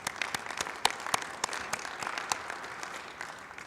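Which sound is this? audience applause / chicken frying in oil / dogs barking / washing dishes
audience applause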